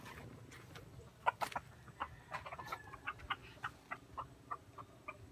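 A tame year-old jungle fowl clucks close by in a rapid, steady series of short, soft clucks, with light rustling underneath.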